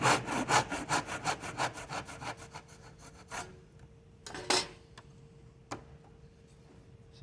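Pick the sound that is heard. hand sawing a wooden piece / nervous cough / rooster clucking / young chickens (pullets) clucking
hand sawing a wooden piece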